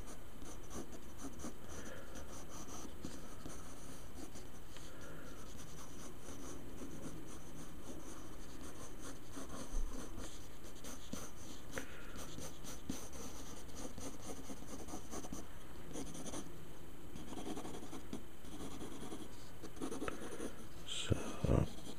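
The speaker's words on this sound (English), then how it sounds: "Just draw the eyes, just mark them in" Pen scratching steadily across paper while sketching a Satan tattoo design, a continuous close, soft scribbling texture with short strokes throughout, no talk.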